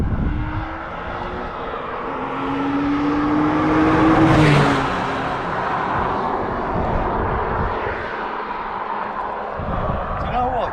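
A Porsche 911 roars past on a Scottish road during the NC500 trip, its engine note swelling to a loud peak mid-clip and then fading into steady road and wind noise, with voices talking over it.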